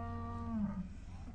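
A single drawn-out moo from a dairy cow on a farm in the south of the Isle of Man, close and clear, its low voiced tone bending downward before trailing off.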